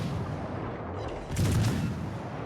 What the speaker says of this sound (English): Our main damage will be coming from our main guns